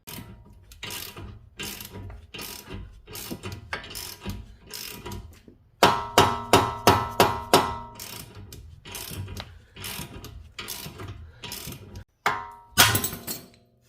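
Repeated sharp clicking of a ratchet tightening a ball joint separator on the front suspension of a supercharged 2010 Audi B8 S4, heard close in quick bursts with short pauses between strokes.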